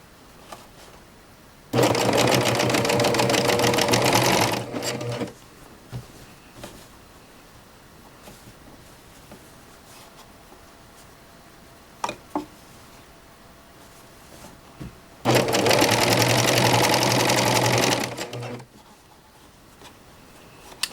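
A serger with a cording foot sews a pillow in two loud sustained runs of about three seconds each, separated by quiet handling noises and a few small clicks.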